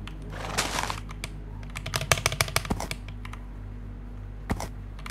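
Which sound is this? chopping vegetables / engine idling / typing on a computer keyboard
typing on a computer keyboard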